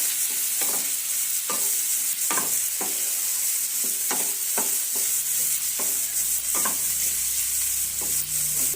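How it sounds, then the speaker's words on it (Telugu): Boiled, squeezed carrot pieces sizzle in a pan as they fry dry for a carrot tempering, with a spoon stirring and scraping in repeated sharp strokes over a constant close hiss. "ఇదో క్యారెట్ ముక్కలు ఉడకబెట్టి పిండేసినాం. ఇప్పుడు ఇవన్నీ పొడిగా బాగా ఎర్రగా వేగాలి."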